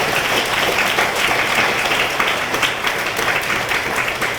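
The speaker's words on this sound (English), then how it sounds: "Can we give them a big round of applause tonight, please?" A large audience at a high school senior scholarship ceremony gives school counselors a dense, steady round of applause that stays loud and continuous throughout.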